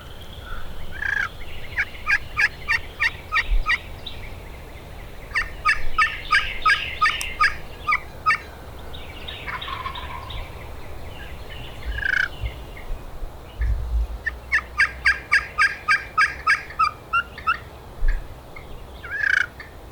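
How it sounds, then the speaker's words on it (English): A wild turkey gobbler in the Mississippi woods gobbles repeatedly, with loud rattling bursts and quick trailing clucks from a fair distance, amid outdoor quiet and a few softer bird calls. "He's still gobbling good though."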